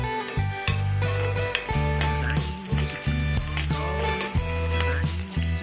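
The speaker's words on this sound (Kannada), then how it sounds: "ಈರುಳ್ಳಿ ಹಾಕ್ತಾ ಇದ್ದೀನಿ." Onions hitting hot oil with cumin in a pan for tomato chutney, a loud steady sizzle broken by repeated stirring scrapes and knocks, with no talk.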